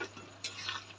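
Chicken curry in a pan is stirred once after garam masala goes in, with a short soft scrape and a faint simmering hiss.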